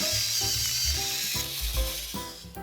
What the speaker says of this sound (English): Grind them with your FinaMill into a small bowl.